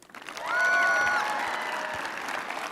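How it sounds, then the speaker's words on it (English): Crowd applause at a 2021 high school graduation for the principal swells quickly into a dense, sustained roar, with a whistle ringing out early on before the clapping evens out. "Can we give one more round of applause for our principal,"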